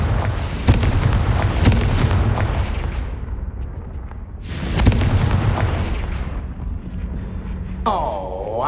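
Confringo blasting spell in Hogwarts Legacy bursts in two heavy booming explosions with crackling debris that fade into a long rumbling tail, a voice speaking over part of it.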